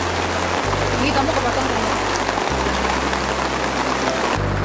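Steady rain pours outdoors in a dense, constant hiss while a low hum drones beneath it and a person speaks briefly over the downpour.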